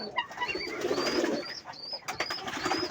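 Pigeons coo softly nearby amid light splashing and fluttering, with a few higher calls over a steady background.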